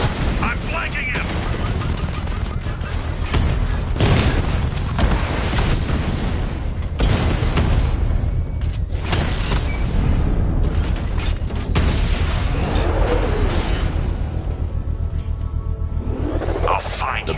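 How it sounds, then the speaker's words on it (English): A controlled bomb explosion in the video game Batman: Arkham Knight sets off loud repeated booms and bursts of blasting and gunfire-like impacts, with sharp hits across a busy, noisy game soundtrack. "I can use the power winch to trigger a controlled explosion."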